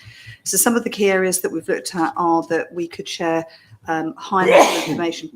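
A sneeze bursts out near the end of spoken remarks at a health board meeting, loud and close, following steady talk.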